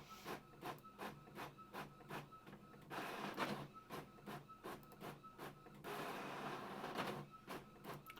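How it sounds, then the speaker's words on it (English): A printer runs at a distance in quick rhythmic passes, steady mechanical strokes with a couple of longer whirring stretches between them. "Please ignore the printer."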